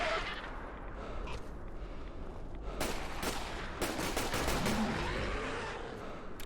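Gunfire in the Fallout 4 video game, a run of sharp shots and short bursts clustered in the middle and latter part over a dense, noisy game soundscape, fairly loud throughout.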